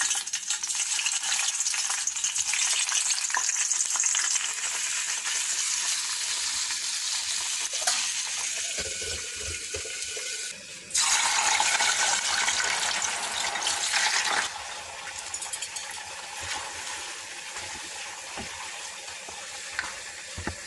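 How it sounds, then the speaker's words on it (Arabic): Tomatoes fry in hot olive oil for a Tunisian swordfish dish, producing a loud, dense, continuous sizzle that shifts abruptly in intensity partway through, as if stirred or moved, then settles into a steady hiss. "اول حاجه صبينا شويه زيت زيتونه سخناها ونرميو الطماطم"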